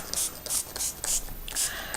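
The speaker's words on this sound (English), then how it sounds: "I'm going to spray it with my" A pump spray bottle mists homemade glimmer mist onto a paper craft mini album page, with about six short, close, breathy hissing bursts in an even rhythm and quiet rustling between them.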